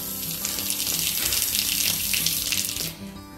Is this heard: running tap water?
yes